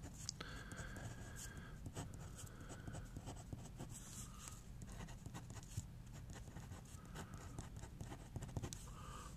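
A pen or pencil scratches steadily across paper while an equation is written out by hand, close, quiet strokes and taps in an irregular rhythm, with faint speech now and then.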